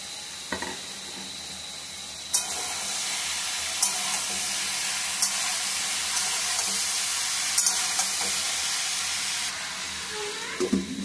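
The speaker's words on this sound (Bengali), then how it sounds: "এবারে বাঁধাকপিগুলোকে দিয়ে দেবো।" Cabbage frying in a pan with green chillies, a steady broadband sizzle and hiss held throughout, with occasional clacks of stirring and a louder burst as it starts; no talking.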